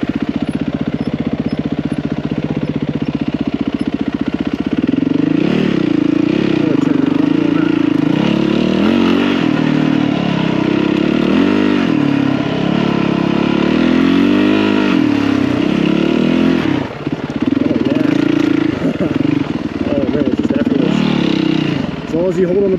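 A dirt bike motorcycle's engine drones loud and close while riding a rough desert trail, revving and dipping in pitch continuously, with a rider talking over it.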